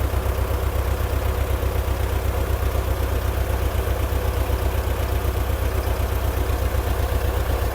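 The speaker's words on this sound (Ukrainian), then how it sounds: "бо це все-таки гусінічний трактор" A heavy T-70 crawler tractor engine runs steadily throughout while sowing soybeans, a loud, even, throbbing drone with a rapid regular pulse and no talking.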